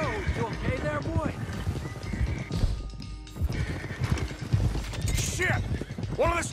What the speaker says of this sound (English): let's get these horses to Clemens Cove